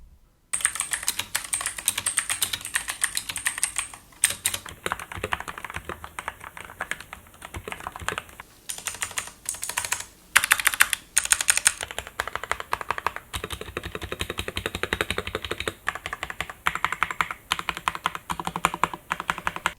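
Steady typing on a Redragon K552 mechanical keyboard fitted with Outemu switches, first unlubed and then lubed. Dense, continuous clacking keystrokes run throughout, with a few short pauses and no voices.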